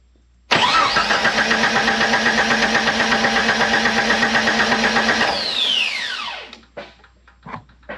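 A car engine suffering a misfire and flooding cylinder cranks and catches, running loud and steady for about five seconds before shutting off and winding down, followed by a few clanks and knocks.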